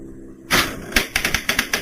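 Coleco ADAM daisy wheel printer printing, a loud burst of sharp, rapid mechanical strikes followed by a quick rhythmic series of clacks, close and dominant with no talking.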